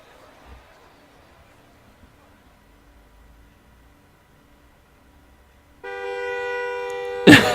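After near silence, a loud, sustained horn-like blare sounds for about two seconds, ending in a sharp burst: a female character's scream in Digimon Story Cyber Sleuth.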